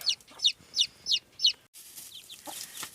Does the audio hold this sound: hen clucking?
yes